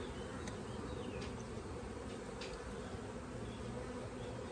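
A dense, continuous hum of many honeybees buzzing together around a hive, loud and close, with no voices.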